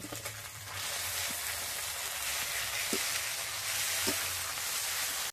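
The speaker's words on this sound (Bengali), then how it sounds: "এবার ভালো করে নেড়ে নেব" Chicken curry with chilli leaves and cumin leaves fries in a pot, a loud, steady sizzle with a few soft knocks of stirring, close and without speech.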